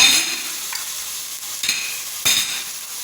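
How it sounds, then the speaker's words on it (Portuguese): Onion fries in a pan with a steady bright sizzle, broken by a few soft stirring scrapes of a utensil against the pan; no voice. "A cebola já tá fritando, né?"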